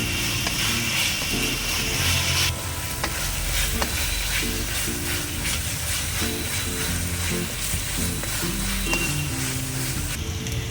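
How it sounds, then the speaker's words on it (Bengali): Ginger-garlic paste and onion fry together in a pan with a steady, loud sizzle, punctuated by repeated clinks and scrapes of stirring. "এখন আমি এই 3টে আদা রসুন আর পেঁয়াজকে একসঙ্গে ভাজছি, এটাও কিছুক্ষণ ভাজবো।"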